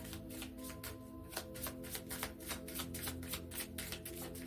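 Tarot cards being shuffled to draw a clarifier card, a steady run of soft papery riffles and flicks at close range over a low, constant background hum, with no voices.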